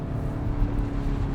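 A BMW XM drones with a steady, deep engine note while driving, heard from inside the car at moderate loudness, with no distinct gear shift standing out in this short stretch.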